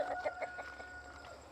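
Chickens cluck in quick repeated bursts nearby, a few birds overlapping against a quiet background.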